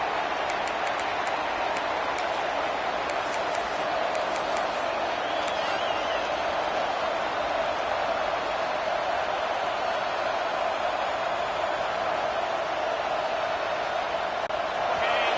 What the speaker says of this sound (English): This crowd, full throat, splitting the eardrums